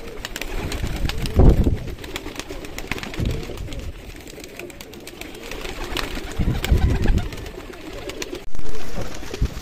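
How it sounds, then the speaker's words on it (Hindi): Pigeons coo at a rooftop pigeon setup in Kashmir, where a flock of about ten to twelve birds is kept for flying. Low, throaty cooing swells in a few soft bursts against steady outdoor background noise. "ये है लगभग मेरे पास 10-12 कबूतर हैं जो मैंने गेम के लिए बाहर छोड़े हैं।"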